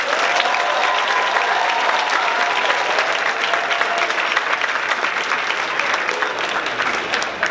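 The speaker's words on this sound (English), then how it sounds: "You all can do better than that. Give a big round of applause." Enthusiastic graduation crowd applause, a dense, loud wash of clapping that stays even across nearly eight seconds, with a few cheers and voices mixed in.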